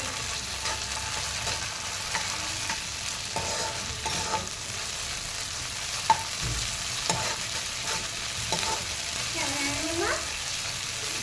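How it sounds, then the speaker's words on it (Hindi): Ginger garlic paste being mixed into frying onions for keema samosas, a low steady sizzle with intermittent spoon scrapes and knocks against the pan, quiet and close, with faint voices in the background. "अब इसमें थोड़ा सा अदरक लहसुन का पेस्ट, इसको भी अच्छे से मिक्स कर लेंगे"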